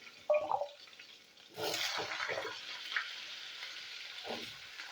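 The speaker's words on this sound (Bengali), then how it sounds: "আলুগুলো আমি ভেজে নেবো।" Potatoes go into hot mustard oil tempered with five-spice and green chilli, breaking into a sudden loud sizzle that settles to a steady, softer frying hiss after a brief clink at the start.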